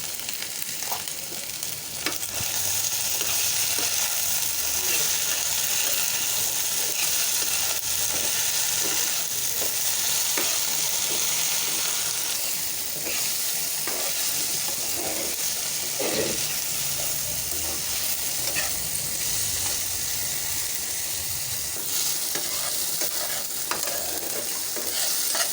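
Steamed okra stir-fried in a pan with oil, onion, green chilli and salt, giving a steady loud sizzle with a spatula repeatedly scraping and stirring throughout, no voices.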